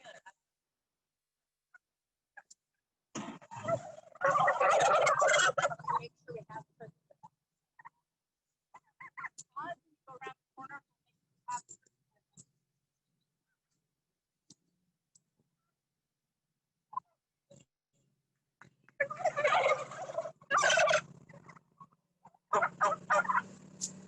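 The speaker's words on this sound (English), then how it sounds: "We're gonna move these turkeys, guys." A flock of farm turkeys gobbles in loud clustered bursts with scattered clucks and clicking calls between them, on a regenerative farm in Vermont.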